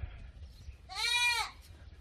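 Goats on a farm in an African village bleat loudly, one long wavering cry standing out over a low rumbling background.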